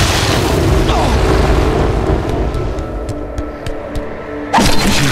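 Missile explosion in The Darkness 2 video game: a loud, dense booming blast fills the clip, fading slightly before a sharp second burst near the end.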